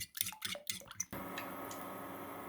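Salted batter gets beaten with egg in a bowl: a rapid run of light clinks and taps, then a soft continuous swishing hiss.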